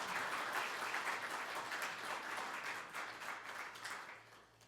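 Audience applause at a Buddhist spring dharma assembly held by the National Assembly's Jeonggakhoe, sustained hall-wide clapping heard from a distance, fairly faint and even, slowly tapering toward the end.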